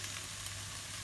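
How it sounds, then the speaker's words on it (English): Onions sweat in a pan, giving off a steady, close hiss of sizzling frying with faint crackles throughout and no voices. "Right, so I'm going to sweat the onions out now."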